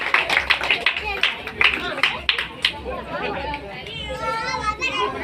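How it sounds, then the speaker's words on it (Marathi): Crowd clapping at a Ganesh Chaturthi Home Minister game program, a burst of loud, rhythmic clapping in the first seconds, then giving way to lively chatter and children's voices. "सगळीजण एका जोरात टाळ्या वाजव सगळीजण"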